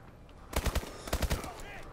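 Bursts of automatic gunfire in the Call of Duty: Advanced Warfare campaign, two quick rapid-fire volleys of sharp, punchy shots in close succession, fairly loud against a low game background.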